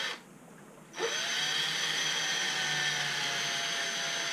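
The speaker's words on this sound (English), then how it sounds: "we're going to take a 1/8 inch drill bit, which is the size of those holes, and I'm going to drill in the holes." A small power drill running with a 1/8 inch bit, boring holes in a model aircraft firewall: a brief start, then a steady whine held for several seconds without talk.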